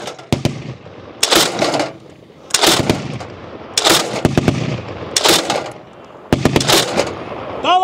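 An automatic grenade launcher (GMG) fires on a range in five loud, close bursts of rapid thudding shots separated by short pauses, with brief shouted voices between them.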